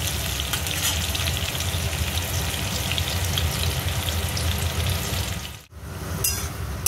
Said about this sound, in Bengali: দিয়ে আলুগুলো আমি লাল লাল করে ভেজে নেব।